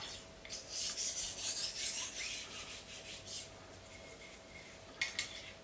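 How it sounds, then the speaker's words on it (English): A slicing knife edge is drawn lightly back and forth across a sharpening stone, giving a run of soft, quick rasping strokes followed by a pause and two final strokes. "this is why I'm sort of tilting the knife, so I'm keeping the weight off that stone."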